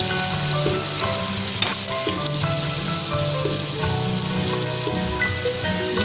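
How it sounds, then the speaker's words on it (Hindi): Garlic and ginger fry in hot oil for macaroni, a loud, steady, close sizzle and crackle that runs unbroken throughout with occasional stirring clinks. "ये हम इसमें लहसुन अदरक ऑयल में फ्राई कर रही हूँ मैकरोनी के लिए"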